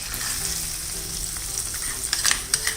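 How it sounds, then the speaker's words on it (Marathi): Hot oil tempering with asafoetida, turmeric and red chillies poured into Maharashtrian ambadi bhaji, giving a continuous close sizzle that breaks into a few sharp crackling spurts near the end, no voices. "आता ही फोडणी आपण भाजीमध्ये घालायची।"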